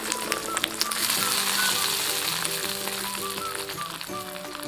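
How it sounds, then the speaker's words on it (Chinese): Hot oil is poured over chili powder, cumin, salt, sugar and sesame seeds, setting off a bright, crackling sizzle. It stays steady and close for several seconds, with faint tonal background sounds underneath. "用热油呛一下， 这滋滋的声音贼爽"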